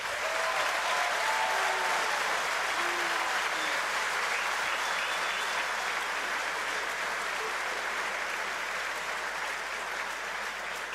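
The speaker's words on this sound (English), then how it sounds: "Give yourself a big applause." Dense, sustained applause fills a large hall as the audience at the Formula Student Germany team welcome claps continuously at an even level, with no break and no talk.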